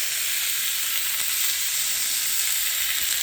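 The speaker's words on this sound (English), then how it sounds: "That sizzling, that's a great sound." Venison shank sizzles steadily on a hot griddle while searing, a constant bright crackling hiss with no talking.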